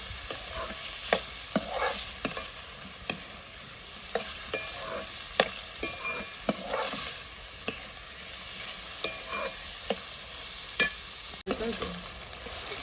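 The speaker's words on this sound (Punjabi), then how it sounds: "ਪਿਆਜ਼ ਬਹੁਤੇ ਨਹੀਂ ਪਕਾਉਣੇ ਬਸ 1-2 ਮਿੰਟੇ ਪਕਾਉਣੇ ਨੇ" Onions frying briefly in a pan alongside tomatoes and capsicum. A constant close sizzle carries repeated spatula scrapes and taps at an uneven pace, with no talk.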